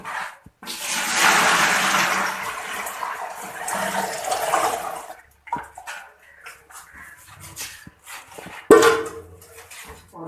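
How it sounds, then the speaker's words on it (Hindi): Cooled, sugar-sweetened milk pours in a loud, steady splashing stream into a large cooking pot for about five seconds, followed by scattered clinks and knocks of the vessel. "अब इसको हम ये साथ जो हमारे पास बड़ा देगचा पड़ा हुआ है इसके अंदर डालेंगे जी।"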